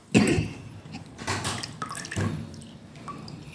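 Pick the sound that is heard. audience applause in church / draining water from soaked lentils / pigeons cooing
draining water from soaked lentils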